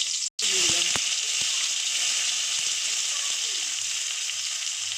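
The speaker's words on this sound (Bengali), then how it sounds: "এবার আমি তেজপাতা দিয়ে দিলাম।" Bay leaf sizzling in hot mustard oil in a heated wok, an intense steady crackling hiss that continues evenly after a brief drop near the start, with a few faint utensil taps.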